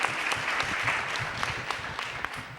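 Applause from a panel audience greeting speakers from the Centro de Derechos de la Mujer, a brief burst of scattered hand claps at moderate volume.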